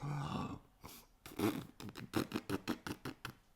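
A voice playfully imitates a funny snore, a few breathy rasping sounds followed by a quick run of short repeated puffs.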